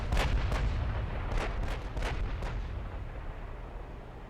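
Battleship artillery volley in the naval game Ultimate Admiral: Dreadnoughts, a rapid series of about seven heavy booming shots in the first two and a half seconds, loud and close, then a long rumbling decay with no talk.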